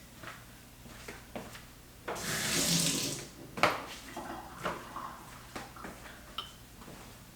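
Water runs from a kitchen tap for about two seconds in a brief rinsing burst, set among quiet clicks and small handling knocks on either side.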